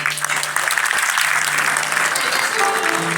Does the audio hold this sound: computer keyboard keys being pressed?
no